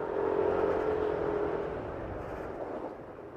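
A Yamaha NMAX 155 scooter engine hums steadily at moderate volume after the throttle is pressed, with a faint whining tone early on that fades as it settles into a smoother drone.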